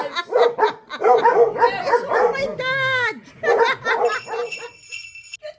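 Dogs barking and yipping in short bursts at home, mixed in with close talking and a brief high whine near the middle.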